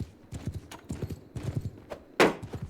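Horse hooves clip-clopping in a multiplayer medieval battle game, a quick steady gallop of hoofbeats with a sharp impact near the end and faint voices underneath.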